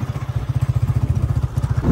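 A motorcycle rides along a road, its engine throbbing in a fast, even, close-up pulse that continues throughout.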